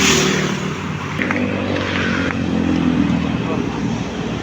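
A Toyota Revo engine runs steadily during a test, giving a continuous low rumble with a faint whine above it, close and fairly loud, and voices are heard over it.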